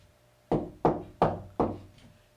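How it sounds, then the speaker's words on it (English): Four firm knocks strike a door in an even, steady rhythm, close and clear, each thud fading quickly, with no voices. "there's a knock at the door."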